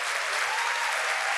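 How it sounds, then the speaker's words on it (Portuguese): Steady applause from a seated audience at a book launch, a dense wash of clapping that stays even throughout. "eu quero uma salva de palmas para essa maravilhosa"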